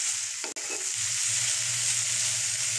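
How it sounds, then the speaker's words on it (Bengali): Oil sizzles and spatters steadily in a pan as a prawn and mixed vegetable curry finishes cooking, a broad continuous hiss broken by one brief click near the start, close and fairly loud with no voices. "তেল ছড়াচ্ছে চারিদিকে"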